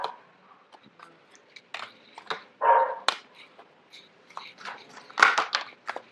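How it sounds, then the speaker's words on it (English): A dog barks in the background indoors, a scatter of short, uneven yaps and bursts of varying loudness, moderately close, with no one speaking over it. "forgive the dog barking in the background"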